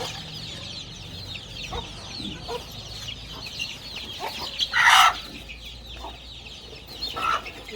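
Month-old desi chicks cluck intermittently nearby, with one louder squawk midway and softer clucks around it over a light outdoor background.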